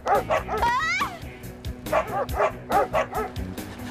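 Cartoon dogs bark and yip in quick repeated bursts near the listener, a rhythmic run of sharp barks broken by a whining, rising whimper over background music.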